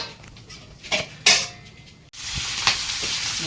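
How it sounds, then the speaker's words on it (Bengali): Fish heads frying in a pan of oil, a bright continuous hiss close by, broken by a couple of louder spatters and a sharp clack of a utensil against the pan. "এখন লাস্ট মাথা দুটো ভাজা হবে"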